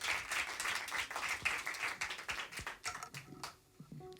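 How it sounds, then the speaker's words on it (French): A concert audience claps for three performers, a fairly faint, distinct patter of individual hand claps that thins out and fades near the end. "Je voudrais qu'on les applaudisse très très fort tous les trois"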